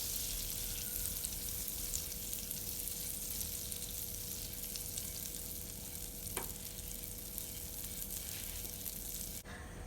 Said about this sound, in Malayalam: ഞാൻ വേറൊരു പാത്രത്തിലോട്ട് ബട്ടർ ഇട്ട് കൊടുത്തിട്ടുണ്ട്